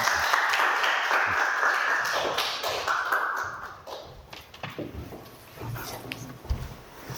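Audience at a Korean climate-change lecture clapping to welcome the speaker, a dense sustained round that fades gradually over several seconds, with scattered claps at the tail.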